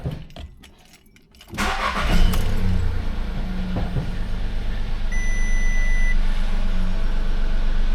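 A neglected car that sat unused for six years cranks and catches, then settles into a steady loud idle with a faint high tone riding over the engine rumble.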